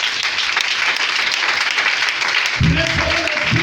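A church congregation applauds God, a dense wash of clapping filling the space, with a voice cutting in over it toward the end.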